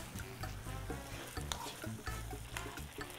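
Sofrito for papa rellena frying in a pan and being stirred, a close, continuous sizzle broken by frequent scraping and stirring strokes, with no talk.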